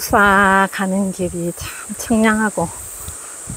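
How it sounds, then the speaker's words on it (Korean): A steady, high buzzing drone of cicadas at Tapsa temple on Maisan mountain runs through the whole clip in the background while someone talks over it. "매미 소리가 들리네요."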